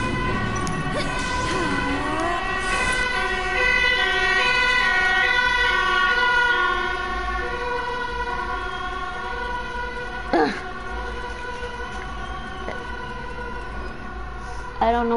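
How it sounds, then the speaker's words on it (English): Wailing sirens inside the Final Fantasy VII Remake post-game Shinra Combat Simulator on PS4, a steady rising and falling tone running under game music, effects and character voices throughout. "Sirens."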